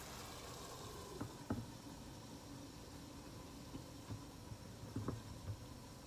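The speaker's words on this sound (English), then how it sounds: "I got 1 pound of lean ground beef, cooking it in a pan, mixing constantly" Lean ground beef frying in a pan, a soft steady sizzle with a few faint clinks and scrapes of stirring, quiet and close, with no talking.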